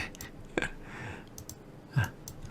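A computer mouse gives two quiet, sharp clicks about a second and a half apart over a faint room background.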